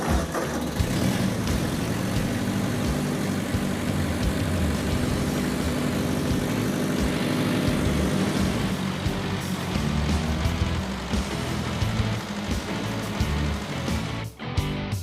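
Ford 8N tractor engine running steadily outdoors, a loud continuous low chugging drone with harmonic hum that holds throughout, briefly dipping near the end.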